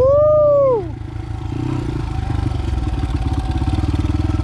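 A 2001 Honda XR80 dirt bike engine runs in gear, loud and close, with a falling high whine at the start settling into a steady rapid putter as the small single-cylinder engine pulls along.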